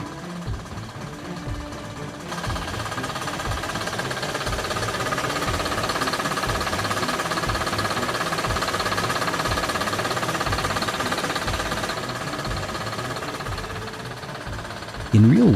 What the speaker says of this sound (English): that blower is both powerful and a sonic fingerprint. When it whines, you know instantly.